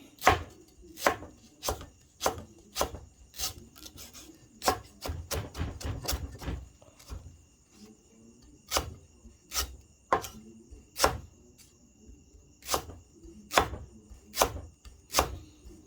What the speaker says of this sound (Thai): หั่นตะไคร้เป็นฝอยนะครับผม